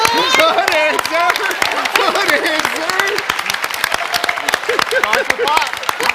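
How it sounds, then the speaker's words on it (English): A game show studio audience clapping in a dense, continuous burst, with voices talking loudly over the applause. "Why y'all clapping?"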